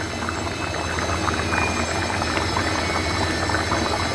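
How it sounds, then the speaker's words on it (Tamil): Mutton kuzhambu curry boils steadily in a pot, with a continuous close bubbling and rattling simmer that stays even and fairly loud throughout, with no talking. "இப்போ நல்லா கொதிச்சிட்ருக்கு."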